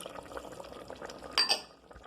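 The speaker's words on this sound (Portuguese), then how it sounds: "você reserva 3 conchas daquela água para colocar no molho" Cooking water reserved from boiling a beef tongue is ladled into a tomato sauce, giving a short, close splash and trickle of liquid after a low kitchen background.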